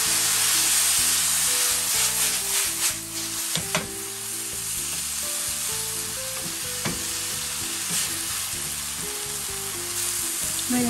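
An egg cooks with noodles and a splash of noodle soup in a pan, a steady close sizzle and frying crackle with occasional stirring scrapes and soft background music throughout.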